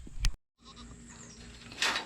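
Goats bleat in a farm goat pen, a short loud call at the start followed by a brief silence, then a steady murmur of animal sounds and a brighter burst of bleating near the end.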